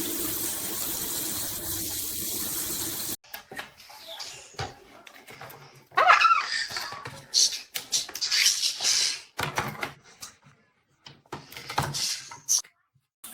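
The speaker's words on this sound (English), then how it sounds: "Okay, that's enough water." Water runs in a steady, close, fairly loud rush for about three seconds, then cuts off abruptly, leaving scattered knocks, clatter and brief bursts of sound.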